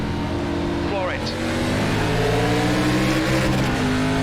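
A race car in the iRacing sim launches hard at the start of an ARCA Menards Series race at Phoenix Raceway, engine droning loud and steady as it climbs through the gears, with a rising whine over the constant roar.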